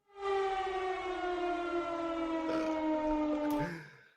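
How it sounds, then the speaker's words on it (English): A civil defense siren sound effect plays as a steady harmonic wail for about four seconds, rising in and fading out at the end, with no talk over it. "I need to find the other siren, man, because that one's a bit weird."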